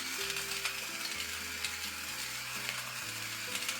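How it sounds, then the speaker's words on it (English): Grinder of a Cera espresso machine grinding coffee, a continuous mechanical whir with stepped shifts in pitch and faint gritty crackle, steady and close, no talking. "close it, and then we'll long press it to start grinding"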